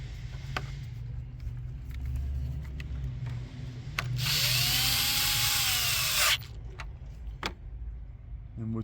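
Tools and metal clinking while the front auxiliary battery of a 2018 Jeep Compass is reconnected, with scattered clicks and taps and a loud hissing burst in the middle before quieter handling resumes.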